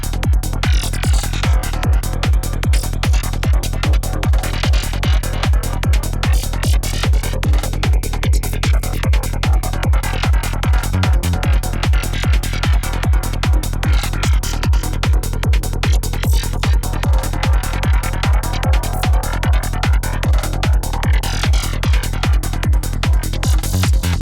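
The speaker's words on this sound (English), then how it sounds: "Today we're going to be taking a look at a really neat phaser effect we can create in Serum" Serum 2 synth patch run through a glassy, metallic phaser effect, playing a steady, loud pulsing pattern with shimmering sweeps throughout and no talking.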